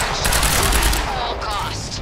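Gunfire in the video game Quantum Break, during a lab assault, rattles in a dense sustained automatic burst, loud and close, with voices mixed in under the shooting.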